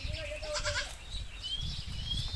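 Goats in a farm goat shed bleat a few times, thin wavering cries at moderate distance, over a steady low background hum.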